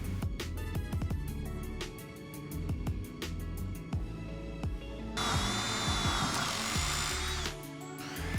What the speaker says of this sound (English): I cut this out of the middle of the plywood with a jigsaw